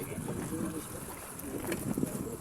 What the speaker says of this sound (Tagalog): Tayo sasakay ng bangka.